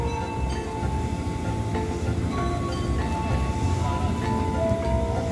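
Steady rumble of an Indonesian commuter train rolling along near Tigaraksa station, with rattling cars and faint high squeals, continuous and fairly loud.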